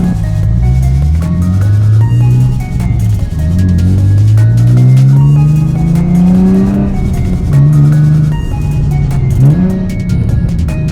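A car engine revs up through several gears, pitch climbing and dropping with each shift, loud and close as the vehicle accelerates.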